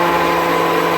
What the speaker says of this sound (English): 3 minutes of continuous blending, and anybody that's familiar with stick blenders will know that your blender gets really hot.